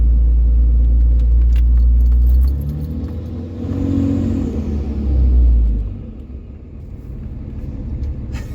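Heavy low engine rumble from a Cummins diesel truck with a new intake and full 5-inch exhaust fills the cab, loud at first, then easing and swelling again before settling to a quieter idle; faint rattles.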